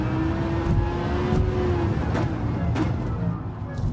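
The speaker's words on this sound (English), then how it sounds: "I'm just finding my way through the gears" A race car engine in Gran Turismo 7 on a wet Tokyo circuit, its tone rising steadily through a gear, then dropping and climbing again as it shifts, loud and alone with no talk.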